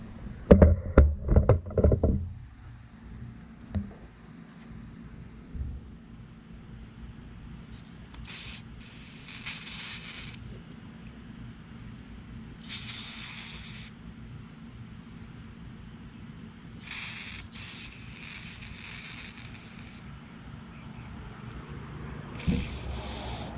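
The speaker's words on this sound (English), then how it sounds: "I'll get the carb cleaner to blow this out" Carburetor cleaner sprays from a can into a Suzuki LT80 carburetor in several short hissing bursts, close by, separated by quiet handling knocks and clatter.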